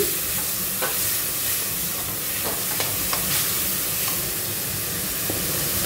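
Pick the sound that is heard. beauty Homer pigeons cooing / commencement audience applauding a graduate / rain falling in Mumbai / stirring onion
stirring onion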